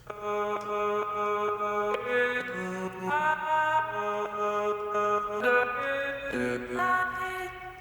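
Airy chopped vocal snippets play a shifting chord-like sequence of sustained sung tones, layered and smooth, with a soft low drone underneath and no speech.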